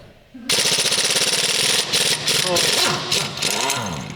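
A loud power tool hammers continuously at a stuck bolt under the wing of a Nissan Primera, its rapid rattling impacts starting abruptly after a quiet moment and pulsing with brief dips in intensity.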